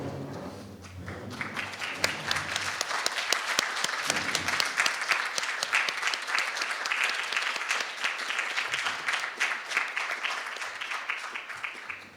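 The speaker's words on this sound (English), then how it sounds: "so we can also give an applause to you" An audience at an academic event on real estate and urban crisis management claps for standing project researchers and collaborators, sustained applause that swells and holds for several seconds before tapering.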